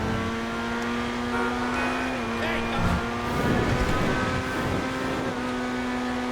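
Grotti Furia sports car in GTA Online driven at wide open throttle, its engine holding a loud steady high-pitched drone that climbs through the revs, with talk over it.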